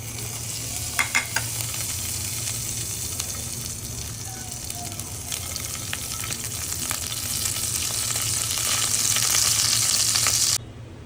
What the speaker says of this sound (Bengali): কুনাফা বানাবো এই জন্য সামাইটা ভালো করে ভেজে নিচ্ছি